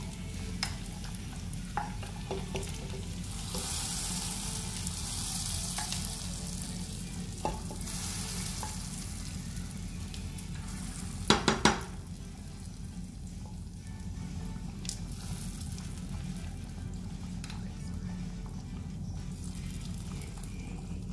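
Cooked bacon stirred into a pot of simmering pinto beans for frijoles charros, with steady low sizzling and bubbling plus scraping spoon strokes and a few sharp clatters midway, no talking.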